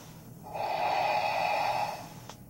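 A voice imitates the raspy, labored breathing of an entombed Warhammer 40k dreadnought pilot: one long, rough, wheezing breath, close and fairly loud, with no talking.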